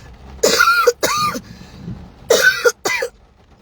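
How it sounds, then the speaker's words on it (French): Four harsh coughs in two pairs, close and loud, from a person with a lingering cough picked up after sleeping in a jail cell, separated by a short quiet gap. "je sors, j'ai une nouvelle toux"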